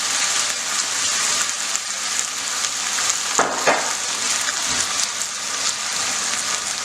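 Bulgogi marinade and vegetables sizzling steadily in a hot pan, a continuous loud hiss with a couple of brief stirring scrapes partway through.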